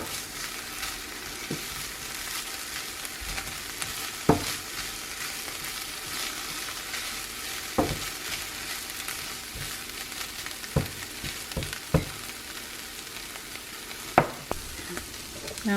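Chunks of chopped chicken fry in oil in a pan, a steady close sizzle broken by occasional sharp pops and clinks of stirring, with no talking.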